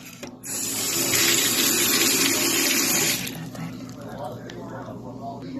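Tap water runs steadily over shredded cabbage being washed in a sink for a coleslaw, loud and close for about three seconds, then easing into quieter trickling and squishing handling as a voice talks over it.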